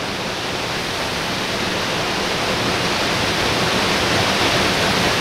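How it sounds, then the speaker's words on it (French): Waterfalls of the Cascades du Hérisson in the Jura roar as a loud, steady broadband rush of falling water, close and unbroken, with no voices over it. "on doit pas trop nous entendre avec le son des cascades là"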